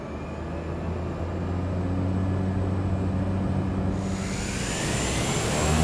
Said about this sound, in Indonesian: Oke, langsung saja kita take off.